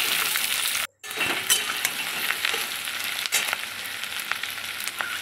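Potatoes, green chillies and diced onions stir-fried in a pan give a steady, close sizzle, briefly cut off near the start, with occasional clinks of a spatula on metal throughout.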